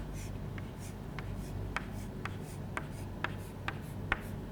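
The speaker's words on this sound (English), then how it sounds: "Again, I would be drawing the same line" Pen or marker drawing a dotted line on a board, a series of short, evenly spaced taps and strokes over quiet room hiss, close and with no talk.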